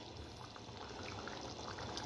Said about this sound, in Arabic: نزودها حبة مية